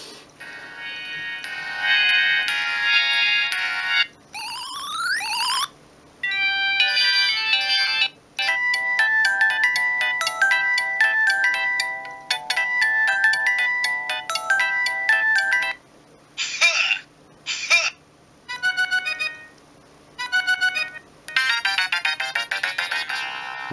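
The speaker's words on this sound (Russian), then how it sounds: "Некоторые рингтоны вообще не по душе мне, если честно" Polyphonic ringtones from a Siemens CX75 mobile phone: bright synthesized melodies in quick note patterns, one tune after another with short gaps, loud and clear, no talking.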